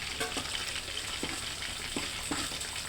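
Ginger and green chillies fry in a hot pan with a steady, close sizzle, broken by a few soft scrapes as the pieces are stirred.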